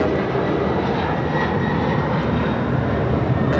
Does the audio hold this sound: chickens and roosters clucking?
no